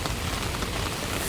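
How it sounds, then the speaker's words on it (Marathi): Heavy monsoon rain falls steadily as a dense, loud, continuous hiss and patter on surfaces, with no voices. "अशा तऱ्हेने पाऊस जोरात पडायची सुरुवात झाली आहे."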